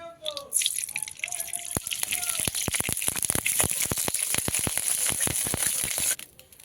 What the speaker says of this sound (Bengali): কড়াইটা গরম হয়ে গেছে কড়াইতে দিয়ে দিচ্ছি তেল